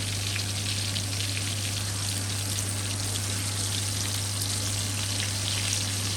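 Onions frying in a pan for chicken fried rice, a steady close sizzle with constant crackle and a low background hum, no voices.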